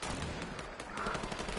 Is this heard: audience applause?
no